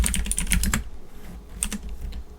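Rapid clicking of a computer keyboard as someone types into a spreadsheet, a quick burst of keystrokes followed by a pause and a few more taps, close and clear.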